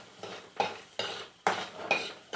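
Onions stir-fried in a pan are scraped and tossed with a metal utensil in four or five distinct rhythmic strokes, each with a light sizzle of hot oil, close and without speech.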